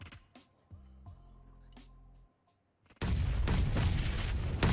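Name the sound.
grenade explosion in the video game PUBG Mobile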